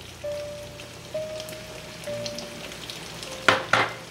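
Chopped onion sizzles in a frying pan alongside smoked pork chops, a steady crackle broken by a few thin tonal squeals and two sharp clatters near the end.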